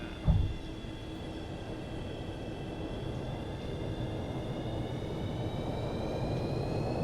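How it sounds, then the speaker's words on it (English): Jet engines roar in full thrust reverse after touchdown in a flight simulator during stormy weather, a steady broadband rumble with whining tones that swells gradually after a brief thump at the start. "Reversers going full."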